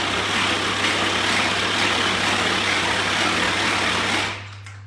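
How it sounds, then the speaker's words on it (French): A kitchen food processor runs at speed 1 with a loud, steady motor whir and a constant low hum, holding evenly for several seconds before winding down at the end. "Vous mélangez ça en vitesse 1."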